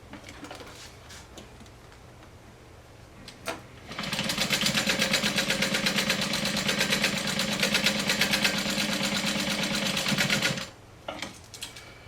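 Close, steady whir of a sewing machine stitching a fanny pack, running in one continuous burst of about six seconds, with quiet handling before and after.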